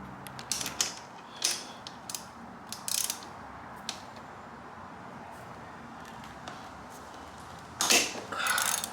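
Work on the engine of a 2013 Kawasaki KX250F dirt bike: a cam chain tensioner comes off with sharp metallic clicks, ratcheting and creaks in short separated bursts, close and fairly loud against a quiet hum.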